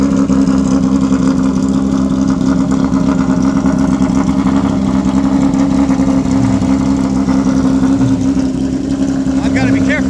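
A classic race car engine idles and rumbles steadily close by in the Road Atlanta paddock at an HSR Classic event, a continuous low drone with slight surges, and a voice talks faintly in the background.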